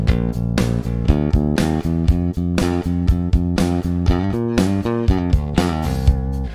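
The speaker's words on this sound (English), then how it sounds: "if I bypass the EQ, this is what the bass sounds like" A bass guitar plays a steady, punchy line of repeated plucked notes straight through a DI with no amp simulation or EQ, close and full with a bright attack on each note.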